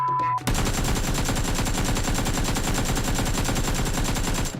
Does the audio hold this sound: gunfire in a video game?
yes